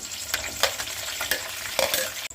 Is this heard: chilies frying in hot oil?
yes